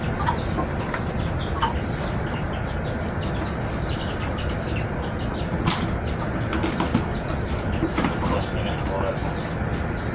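Wings flap and rustle in bursts while a six-month-old Shamo chicken clucks nearby during unboxing, over a steady background of noise and faint talk.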